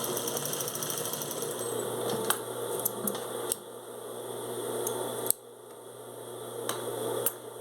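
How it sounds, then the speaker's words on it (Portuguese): A sewing machine runs steadily as it stitches a shoulder bag, backstitching to lock the seam, with a constant motor whir broken by a few sharp clicks and knocks. "Vou costurar dando retrocesso."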